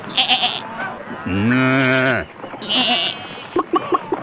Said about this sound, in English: All those cows, those little old sheep back there, and those goats